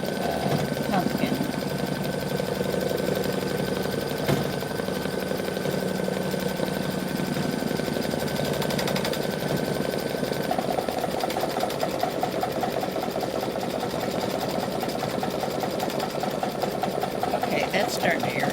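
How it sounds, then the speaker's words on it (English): An embroidery machine satin stitches the outline on an appliqué pumpkin with a steady, fast mechanical whir and needle chatter, close and continuous throughout. "it is doing satin stitching, creating the definition on the"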